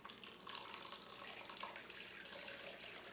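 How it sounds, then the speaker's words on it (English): Tap water runs steadily into a crock pot packed with corned beef, filling it almost to the brim; the broadband rushing pour stays close and loud for its full length, with no voices. "I'm just going to add enough water to barely cover the corned beef."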